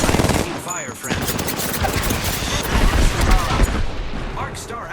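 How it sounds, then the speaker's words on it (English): Dense rapid automatic gunfire and bursts in the Apex Legends battle royale video game, loud and close, with whooshes and impacts and game character voice lines over it. "Taking fire, friends."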